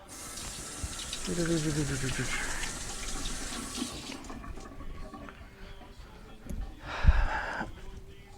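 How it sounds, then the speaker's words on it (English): A tap runs into a sink while hands are rinsed, a steady close gush with a brief vocal sound near the start and a louder splash burst toward the end. "I'll rinse my hands off."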